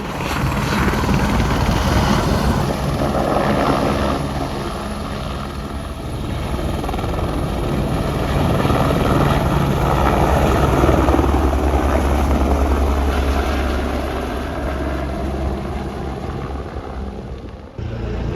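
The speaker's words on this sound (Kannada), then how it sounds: "ಅಲ್ಲಿ ನೋಡಿ ಹೆಲಿಕಾಪ್ಟರ್." A helicopter flies near Kedarnath, its loud rotor thrum and engine drone filling the air steadily and swelling slightly as it passes before cutting off abruptly at the end.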